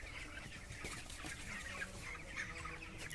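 Chickens clucking at a poultry farm, a dense chorus of overlapping clucks and squawks from many birds, steady and fairly near with no voices.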